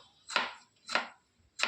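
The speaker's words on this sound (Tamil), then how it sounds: "தக்காளி வந்து பொடியாக அரிஞ்சிக்கணும்" Three crisp knife strikes chopping tomato finely on a board, evenly spaced about half a second apart, close and clear with silence between.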